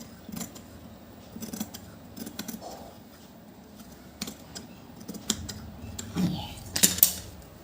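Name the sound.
scissors cutting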